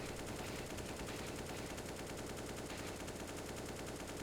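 Sustained automatic rifle spray in CS:GO, a dense unbroken stream of rapid shots running loud and continuous for several seconds with no talk over it.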